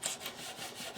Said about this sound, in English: I make sure I'm keeping the sandpaper wet